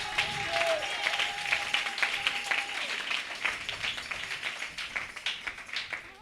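A church congregation applauding during a worship service, producing steady, dense clapping that carries on throughout with a few faint voices mixed in.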